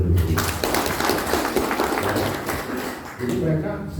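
An audience at an Indonesian industry event breaks into applause for the Ministry of Industry, a dense wash of clapping that runs under and around a speaker's amplified voice.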